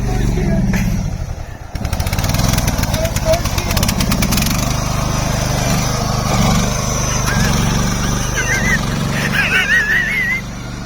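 A riding lawn mower engine runs close by with a loud, steady rumbling drone that dips briefly and then picks up again. Voices are heard over the engine.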